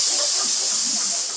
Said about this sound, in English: It's a steam-powered chicken.